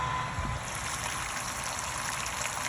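Hot water at about 180 degrees pours steadily into malted grain in a mash tun during home beer brewing, a continuous broadband rushing flow with no breaks, close and fairly loud, with no talking.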